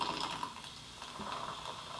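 Coke poured from a bottle into a glass of spiced rum, a soft, steady trickle of fizzy liquid heard close and fairly quiet for a couple of seconds.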